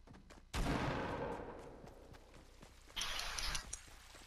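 Two loud gunshot blasts ring out in a shooter video game with friends, the first at about half a second with a long decaying tail and a second, brighter burst near three seconds, over a faint background.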